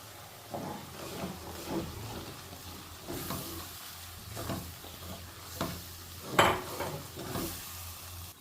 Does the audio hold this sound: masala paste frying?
yes